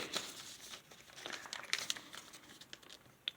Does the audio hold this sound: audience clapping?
no